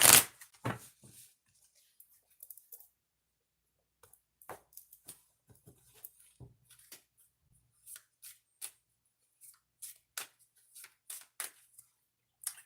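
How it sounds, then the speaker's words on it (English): Tarot cards are handled and shuffled up close, starting with one sharp riffle and then a scattered run of small snaps, taps and flicks in a quiet room. "One more shuffle."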